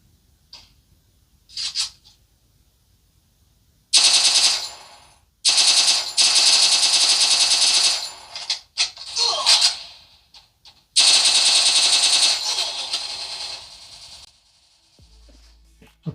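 Rapid automatic gunfire in the Free Fire video game, played on a budget phone, bursts out in several long loud bursts with short gaps of near silence between them, plus a few brief single shots.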